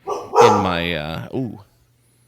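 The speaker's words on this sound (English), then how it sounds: "but that was my dog this time" A dog lets out a single close, drawn-out yelping bark followed by a shorter yip, with a brief human exclamation alongside.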